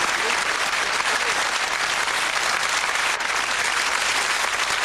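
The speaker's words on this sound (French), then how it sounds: "je vais vous demander d'applaudir le lauréat d'aujourd'hui qui est monsieur Hubert Gilloin." A TV studio audience on a French game show applauds the day's winner, a dense, loud and steady burst of clapping filling the whole stretch.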